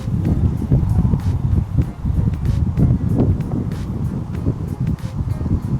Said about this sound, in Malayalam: കാറ്റ് വീശുന്നുണ്ട്. കാറ്റ് വീശുമ്പോൾ നമ്മൾ നോക്കി പോകണം. ഇലകളൊക്കെ ഒന്ന് അടിച്ച് കയറും കേട്ടോ.